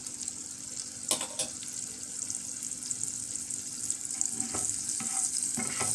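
Butter sizzles on a hot tawa with a steady, moderate frying hiss and a couple of sharp clinks and scrapes from a utensil, and no one speaks.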